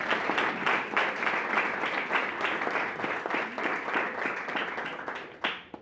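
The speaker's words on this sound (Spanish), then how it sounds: "¿Cuántos pueden darle un aplauso a Papá Dios esta noche?" Church congregation applauding at an evening service, a steady dense wash of clapping that holds loud and close throughout, tapering near the end.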